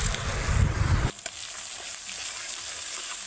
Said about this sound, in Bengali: দিয়ে সুন্দর করে মশলাটা কষিয়ে নেবে।